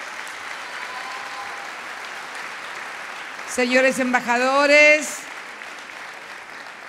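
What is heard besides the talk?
applause for electoral authorities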